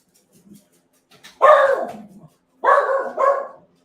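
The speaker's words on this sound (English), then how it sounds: "Let me let the dogs in so they'll stop barking again" Dogs bark in three loud, close bursts: one long rough volley, then two shorter ones in quick succession, with brief quiet gaps and faint whimpers before.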